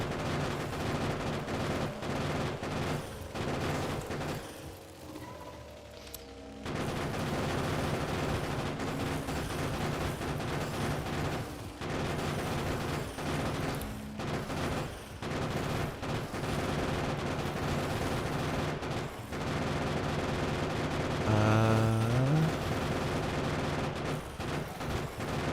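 Turrets in the video game Factorio fire rapid, dense volleys of shots that run almost nonstop, with other game sounds underneath.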